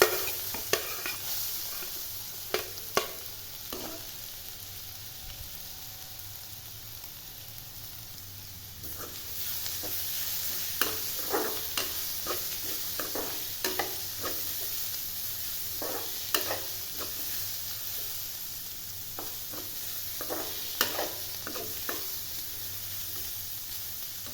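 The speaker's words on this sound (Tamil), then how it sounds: "இப்போ தட்டி வச்ச பூண்டை போட்டு நல்லா வறுத்து எடுத்துக்கணும்" Crushed garlic frying in sesame oil, with a steady sizzle and hiss throughout and frequent scraping stir strokes that grow busier in the second half, close and continuous with no talk.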